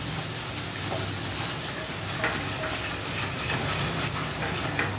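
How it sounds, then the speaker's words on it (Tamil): Rice flour and other ingredients fry in oil for Chettinad ukkarai, giving a steady, dense sizzle with faint stirring ticks that stays even throughout. No one speaks. "எல்லாமே எண்ணெயில் நல்லா வறுபட்டுக்கணும்."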